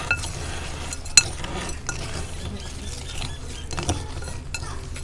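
A dry spice mix for white pulao masala being stirred in a pan or bowl, with soft scraping and light clinks of a spoon at an even, low level, and one sharper clink early on.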